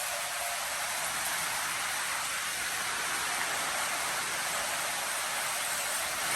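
Steady, even hiss of rain falling continuously on a farm, a dense wash of sound with no voices or breaks.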